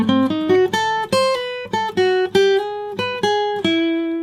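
A jazzy blues guitar lick moving from the I chord to the IV chord, played slowly as clear, separate plucked notes with a ringing sustain, the phrase stepping up and settling, close and alone.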